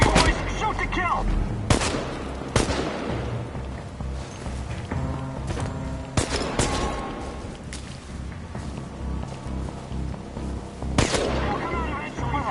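Enemy gunfire in the video game Chernobylite, with loud sharp shots and bursts cracking out at irregular intervals over a low rumbling backdrop, and scattered voices between them.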